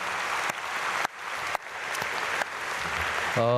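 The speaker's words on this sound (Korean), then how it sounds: "우리 잠깐 일어나시면 박수로 축복하고" A church congregation applauds together at a Korean early-morning prayer service, a dense, steady wash of clapping that fills the hall and gives way to a sustained tonal note at the very end.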